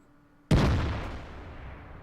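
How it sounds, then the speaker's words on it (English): A single tank cannon shot in World of Tanks fires with a loud, sudden boom whose rumbling echo fades slowly over the following second and a half. "And that shot just went clean over his head."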